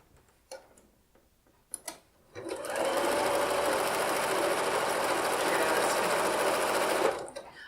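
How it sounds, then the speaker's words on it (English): A sewing machine stitches quilt block pieces of 2.5 inch squares and a rectangle, starting after a few light clicks of handling and then running in one loud, close, steady rapid stitching burst for about four seconds before stopping. "I'm going to sew that together"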